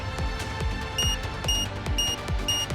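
Repeated high electronic beeps from an excavation bomb alarm in Nikke: Goddess of Victory, in a steady pulsing pattern over a thumping rhythmic game soundtrack, no talking.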